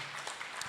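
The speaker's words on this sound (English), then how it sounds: "you clap your hand for this amazing job that you are doing" A crowd applauds at a regional knowledge-sharing meeting, giving a brief, dense wash of hand clapping that sounds somewhat distant and steady.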